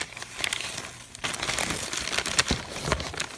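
Package wrapping being peeled back close up: crinkly plastic rustles and tearing crackles in irregular bursts, louder after a brief pause, with no voices.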